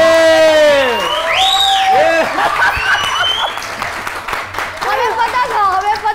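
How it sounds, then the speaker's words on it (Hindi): Audience at a televised Eid special show clapping, cheering and whooping for the white team, loud and lively crowd noise with high excited shouts and voices mixed throughout. "अब तालियां हो जाए व्हाइट टीम के लिए।"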